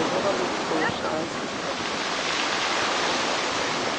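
Big, stormy sea waves near the island of Capri roar continuously in a loud, broadband wash of surf and wind, with no clear breaks between swells.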